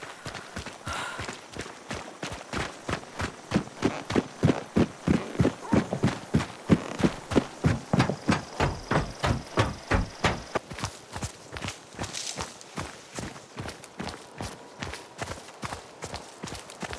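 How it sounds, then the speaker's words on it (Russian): Footsteps in Hunt: Showdown 1896 cross different surfaces in a steady, moderately close rhythm, first firm and even, then looser and more irregular toward the end, with no one talking. "По звуку шагов можно определить поверхность."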